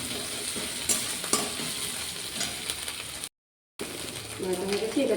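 Garlic, ginger and green chilli paste sizzles in a hot pan, with steady frying hiss and occasional scraping stirs, a brief gap of silence near the end before the sizzle resumes.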